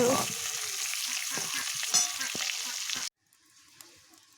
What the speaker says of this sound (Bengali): আর এদিকে আমার আলুগুলো ভাজা হয়ে এসেছে